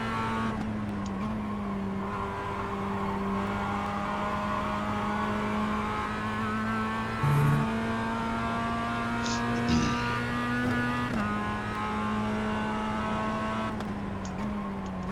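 A race car engine in iRacing drones steadily at high revs through a lap, holding a sustained tone that shifts slightly in pitch, with a brief change as the revs settle near the limiter.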